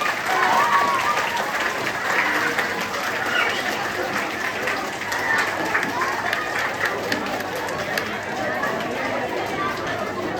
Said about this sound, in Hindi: तालियों के साथ जोरदार तालियों के साथ स्वागत कीजिए।